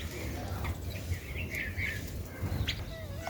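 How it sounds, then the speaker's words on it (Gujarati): Birds arriving to peck at scattered grain in the morning, with soft chirps and tweets over a low, steady outdoor hum. "જો પંખી આવી ગયા છો"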